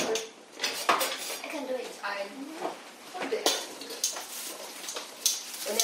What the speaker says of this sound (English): Just get a wooden spoon and stir it together.